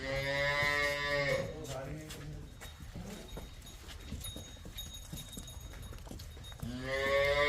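Jersey cross heifer on a dairy farm lowing in long, loud, close moos at the start and end, with hoof clatter, farm bustle and a person talking in between.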